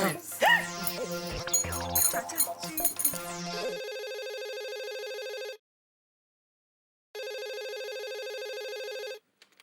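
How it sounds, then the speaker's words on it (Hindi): After a brief burst of jingly music, a telephone rings in two long, even electronic trills separated by silence, clear and close. "मैं कोमल भाभी को फोन करके पूछती हूँ"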